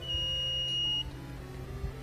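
A small electronic buzzer driven from an Arduino-style board sounds a single steady high-pitched tone for about a second, then cuts off, leaving a low background hum.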